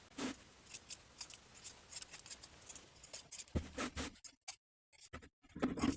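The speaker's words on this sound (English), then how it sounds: "Trim the seam allowance in half all the way around." Sewing scissors trim a fabric seam allowance on a children's jumper, a quiet series of close snips and slicing crunches, faint and intermittent, pausing briefly near the end before cutting resumes.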